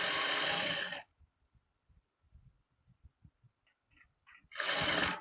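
A sewing machine stitching a maggam work blouse runs in a loud whirring burst, pauses to soft tapping and clicks, then whirs loudly again.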